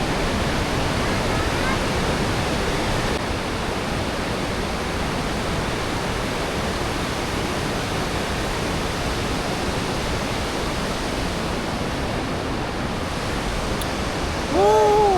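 Water gushing out of a cave mouth at a river cave, a dense, steady roar of rushing water that fills the scene, loud and unbroken, with a brief voice near the end.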